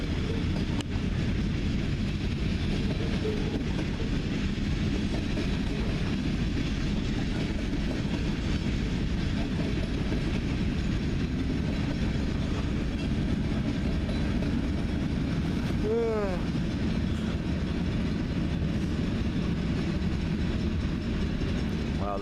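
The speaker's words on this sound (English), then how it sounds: "that wasn't a very long train for all the noise it made" A train rumbles steadily past on a railroad, a loud, continuous low roar with rattling wheel clatter filling the whole stretch, and a brief horn-like wail rising near the middle.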